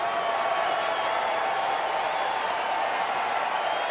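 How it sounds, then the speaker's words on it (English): Stadium crowd at a Rangers–Angels baseball game with the bases loaded, on their feet cheering, hooting and hollering as a steady, dense roar throughout. "Hooting and hollering."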